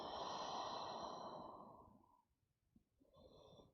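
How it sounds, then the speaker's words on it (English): A deep breath out during a slow yoga practice, a long, close, soft exhale that fades into quiet before another gentle breath begins, with no talking. "One more deep breath out."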